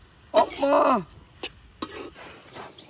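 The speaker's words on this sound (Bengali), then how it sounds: "এই যে হলো আমাদের পুঁটি মাছ রান্না হচ্ছে" Puti fish cooking in a pan outdoors in a village setting: a short burst of sizzling and stirring, then a few brief scrapes and clinks, fairly close and moderately quiet, with no talking.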